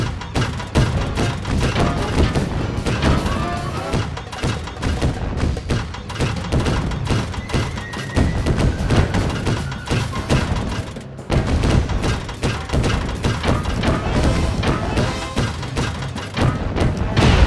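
Crashing destruction in Sly Cooper: Thieves in Time, a dense, continuous barrage of heavy booms, thuds and smashing impacts, loud and relentless throughout.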